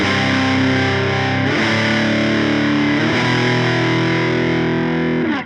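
An electric guitar played through a Wampler TCD Compulsion Drive overdrive pedal rings out loud and saturated in three sustained distorted chords, each struck and left to ring before the next, with no talking.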